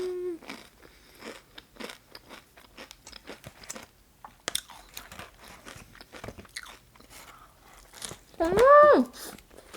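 Crunchy potato chips eaten with a homemade In-N-Out style burger, with scattered close-up bites and crunches between chewing and brief murmurs, plus one loud crunchy burst near the end.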